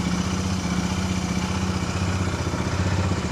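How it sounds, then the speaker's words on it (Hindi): A motorcycle engine on a cold start, idling close by with a steady, even rumble and a fine mechanical clatter for the whole stretch, with no voices. "सो गाड़ी कोल्ड स्टार्ट हो रही है, आप बताओ इंजन का नॉइज़ कैसा आ रहा है।"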